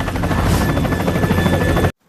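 Police helicopter flying toward a jungle in an Indian Godzilla movie, loud pulsing rotor chop with a steady whine that runs continuously, then cuts off abruptly into silence.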